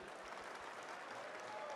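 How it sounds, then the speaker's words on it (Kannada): An audience at a Kannada film song launch event bursts into applause, a brief steady wash of clapping from a crowd at moderate distance. "ಒಂದು ಜೋರ್ ಚಪ್ಪಾಳೆ"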